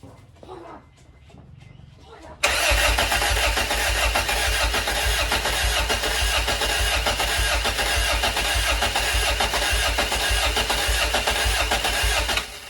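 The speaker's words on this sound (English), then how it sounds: "So I'm just going to crank the car again, build a bit more oil pressure" A Honda B16 engine swapped into an EK Civic cranks for a couple of seconds on its first start, then catches and roars into a steady, loud idle that runs on without a break.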